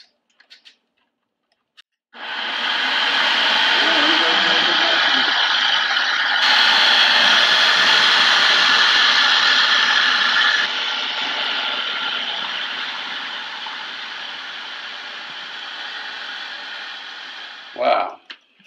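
A kitchen machine spins orange juice with liquid nitrogen into sherbet, giving a loud, steady whirring hum that runs for over fifteen seconds and then winds down with a brief clatter near the end.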